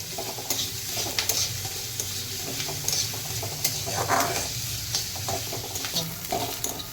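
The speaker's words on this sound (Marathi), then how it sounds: "आपण व्यवस्थित आता ऑनियन हे भाजून घेतलेले आहेत आणि ऑनियन भाजायचं काम चालू आहे." Onions sizzle steadily in a pan as they fry to light brown for a dried fish chutney. A spoon stirs and scrapes them in frequent close strokes over a constant hiss, with no talking.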